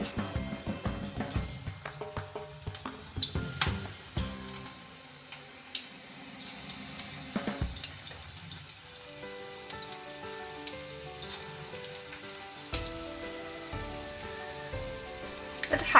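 Small dollops of egg and semolina pakora batter fry in hot mustard oil, a soft, close crackling sizzle with scattered ticks and pops, fairly quiet and steady with no talk.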